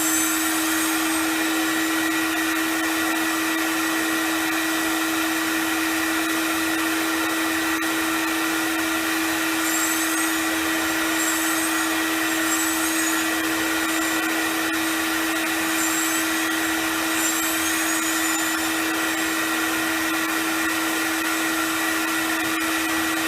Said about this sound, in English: So turn on the vacuum and you'll see this start to pull.